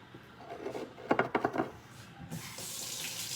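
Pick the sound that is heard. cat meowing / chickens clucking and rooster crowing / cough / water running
water running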